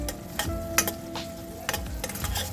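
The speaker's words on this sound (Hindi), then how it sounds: "ये हमारे मसाले भून रहे हैं।" Ground spices (chili, turmeric, coriander, cumin and garam masala) roast in a pan for matar paneer, with a spoon scraping and clinking through a soft sizzle in short close strokes, no voices.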